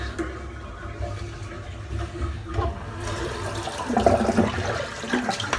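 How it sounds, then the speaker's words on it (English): Dirty water sloshes and drains away as it is poured out, a steady rushing gurgle that swells louder toward the end, close by, no speech. "So I'm just going to empty this water because it's a little bit dirty."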